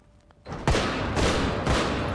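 Gunfire in the zombie survival game Project Zomboid comes as a dense, continuous fusillade of loud, close shots that starts abruptly and pounds on in rapid overlapping bursts.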